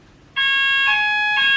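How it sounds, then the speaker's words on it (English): A household fire alarm set off by wood smoke from a fire on a terrace, sounding loud, steady electronic beeping tones that pulse in repeated bursts, with no talking. "That was making the fire alarm go off."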